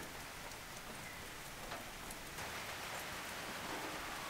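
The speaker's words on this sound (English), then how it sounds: "that rain is well and truly set in, eh?" Steady rain falls outside a camp tent in the Australian high country, a continuous dense hiss with scattered drop patters and no voices.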